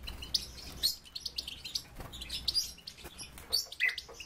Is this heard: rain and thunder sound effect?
no